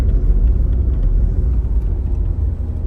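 A Ford Ranger engine revs up toward about 3,000 RPM under acceleration on an off-road track, a loud, steady low rumble that fills the clip without voices.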